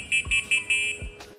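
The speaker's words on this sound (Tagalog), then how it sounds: "Tayo busina." An electric motorcycle's horn is tested with four short, bright beeps in quick succession, close and clear, followed by a faint click.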